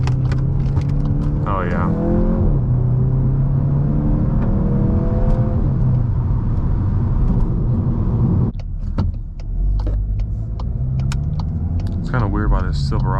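A Volkswagen MK8 GTI accelerates through a corner from inside the cabin, a steady engine rumble building with rising revs, a brief gear-change dip, and a voice speaking briefly.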